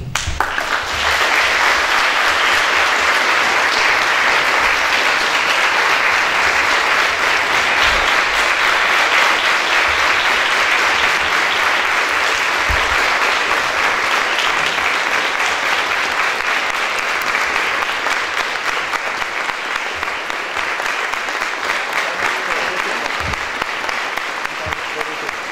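A large audience at a university farewell lecture applauds loudly and steadily, a dense, sustained wash of clapping that holds at full strength for the whole stretch without letting up.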